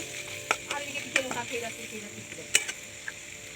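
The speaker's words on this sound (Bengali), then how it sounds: "এরকমভাবে আমি এটাকে হালকা আওয়াজে ভেজে নেব" Spices and salt fry gently in a wok, a low sizzle under scattered clinks and scrapes of a spatula, close and fairly quiet.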